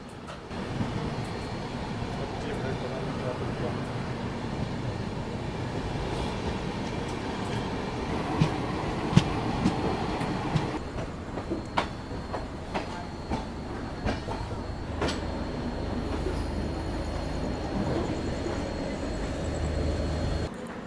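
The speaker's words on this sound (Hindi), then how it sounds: "और सामने जा रही है गोरखपुर वाराणसी सिटी कृषक एक्सप्रेस।" The Gorakhpur–Varanasi City Krishak Express rolls past at night in India, a long steady rumble with rhythmic clickety-clack of wheels over rail joints and scattered metallic clanks, heard close throughout.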